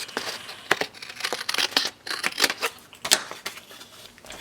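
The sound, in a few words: cutting paper with scissors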